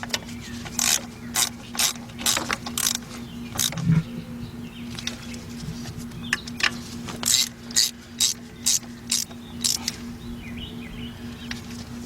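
A 3/8 drive ratchet with a 13 mm socket loosens water pump bolts on a Cadillac engine, with bursts of rapid clicking repeating in short runs and pauses between them.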